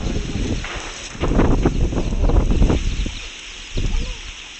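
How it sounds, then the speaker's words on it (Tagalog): Strong gusts buffet the microphone in loud bursts that rise and fade, roaring close with a faint whistling layer behind them. "sobrang lakas ng hangin dito"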